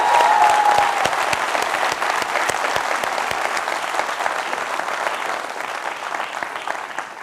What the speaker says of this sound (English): Give this girl a good round of applause.